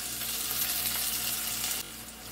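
Chopped onion and garlic sizzle steadily in hot oil for a vegetable sambar, a close, even frying hiss that drops slightly in level near the end.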